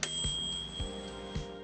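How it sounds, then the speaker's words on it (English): A manual facial steamer's timer bell rings on reaching zero, giving a bright metallic ding with a sustained ringing tone and a few soft repeated strikes, close and fairly quiet. "When the timer reaches zero, a bell will ring and the unit will turn off."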